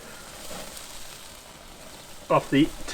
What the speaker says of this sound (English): Searing up real quick, these are.